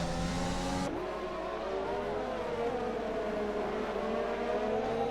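An AlphaTauri Formula 2 car roars in onboard view in a racing video game, engine screaming at high revs, dropping sharply on a shift, then climbing again in a loud sustained whine.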